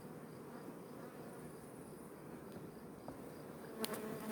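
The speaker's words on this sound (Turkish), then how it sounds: "Muhammed burada bayağı arı var ya." Honey bees buzzing steadily at an apiary hive, a dense continuous drone from many bees close by, with a brief click near the end.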